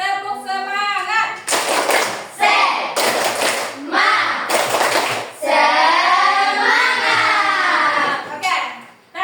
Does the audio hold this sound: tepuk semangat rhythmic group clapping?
yes